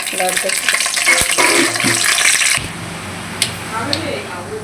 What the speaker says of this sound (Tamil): நெய் சூடானதும் எண்ணெய் ஊற்றிக்கலாம் வச்சுருக்க ஸ்பைசஸ்லாம் ஆட் பண்ணிக்கலாம்